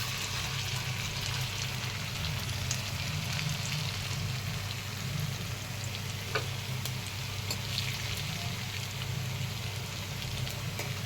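Jackfruit seed pieces frying in white oil in a kadai, a dense, continuous sizzle like rain on a surface that holds steady throughout, close and moderately loud with no talking.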